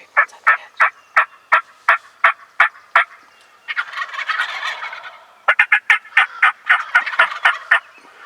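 Wild turkeys gobbling in spring woods, with rapid runs of loud, close rattling gobbles, a burst of breathy rustling in between, then more quick gobble notes from several birds, with no speech.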